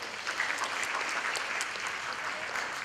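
Steady applause from a crowd, a brief burst of many hands clapping at an even level with no speech.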